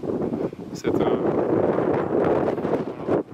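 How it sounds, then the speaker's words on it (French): Strong gusts of wind buffet the microphone at altitude near an abandoned Corsican village, a loud, roaring rumble that swells and dips over a few seconds with brief lulls between bursts. "désolé pour les bourrasques de vent, comme je vous ai dit, je me trouve en altitude, et donc du coup il y a beaucoup de vent"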